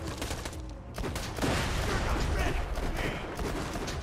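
Gunfire in the video game Borderlands 2: dense, continuous bursts of shots with a few louder cracks, steady and close throughout, no voices.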